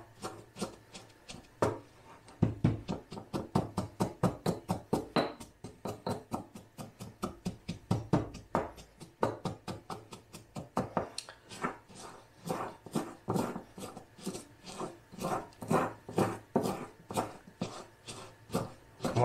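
Chickpeas crushed with coarse salt for homemade hummus, a steady run of sharp gritty knocks and scrapes repeating quickly and closely for a long stretch, with no talk over it.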